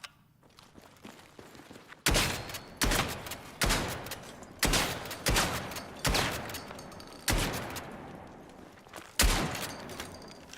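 Gunfire in the Battlefield 6 video game, about eight sharp, loud shots spaced roughly a second apart, each cracking then ringing out in a decaying tail, after a quieter stretch of faint rustling.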